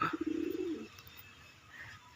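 Pet pigeons give soft, low cooing calls early on, quiet and fairly close, then fade into faint background hush.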